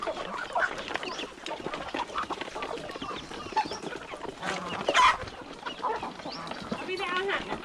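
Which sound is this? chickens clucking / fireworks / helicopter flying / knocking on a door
chickens clucking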